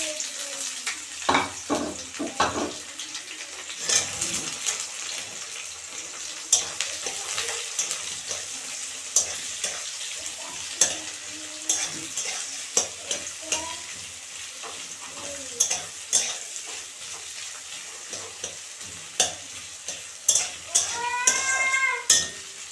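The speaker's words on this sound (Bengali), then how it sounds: "পেঁয়াজ ভাজা ভাজা হয়ে গেছে" Onions frying in a pan for a Bengali fish dish, with steady sizzling broken by sharp metal clinks of a utensil against the pan and stirring clatter; a cat meows near the end.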